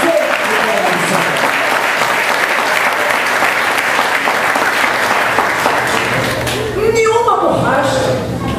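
A church congregation applauding during a sermon, dense continuous clapping that is loud and close throughout, with voices rising over it near the end.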